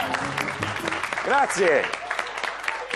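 Audience applause after a handkerchief knot magic trick at a magic show, moderate clapping running underneath several voices talking and exclaiming over it.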